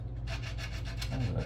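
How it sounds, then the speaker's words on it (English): Rhythmic rasping strokes of sanding on a painted dashboard from a 1957 Cadillac Eldorado Brougham model car kit, about a dozen quick back-and-forth passes, close and fairly loud, with no speech. "See me try to just sand her nicely painted dash?"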